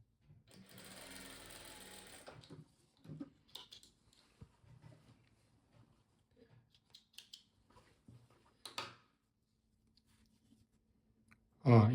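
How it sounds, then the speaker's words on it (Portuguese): Sewing machine stitching two quilt fabric pieces together for a bedspread, a quiet run of rapid needle chatter for about two seconds followed by scattered soft clicks and fabric handling. "E agora passamos aqui uma costura"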